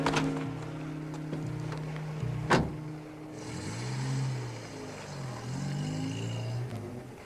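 A car pulls away, its engine note rising and falling in a few gear-like swells at moderate loudness over a dull interior hum, with no talking.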